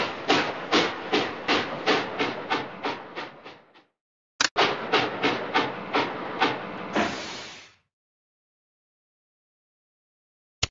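Toy trains chug in a Curious George children's video game, with rhythmic puffing bursts in two runs separated by a short pause, each ending in a fading hiss, followed by silence and a final click.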